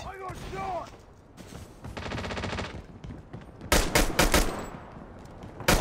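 Call of Duty Mobile gunfire crackles in a rapid machine-gun stutter, then heavy, loud shots burst close in a cluster near the end, with a player's voice and game sounds in between.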